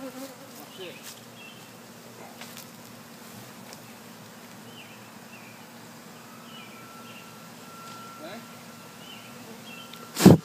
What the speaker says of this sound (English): I'm just kind of nervous here with these bees. Buzzing around the phone.